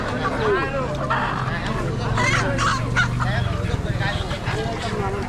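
Ducks and chickens at Dhara Bazar, a rural poultry market in Haluaghat, Mymensingh, make honking, clucking calls mixed with crowd babble, while a person talks over the busy scene.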